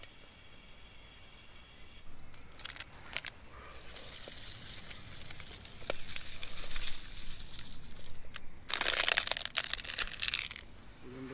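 Crackling and popping of a small fire in a camp stove, irregular snaps and crinkles over a soft steady hiss, close by, growing busier toward the end.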